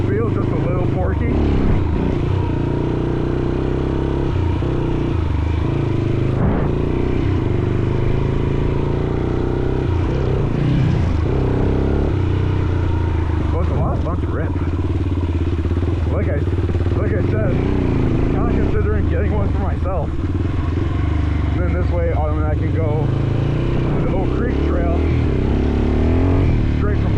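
A Yamaha XT350 motorcycle being ridden, its engine droning steadily throughout with gear and throttle changes, while a rider talks over the noise.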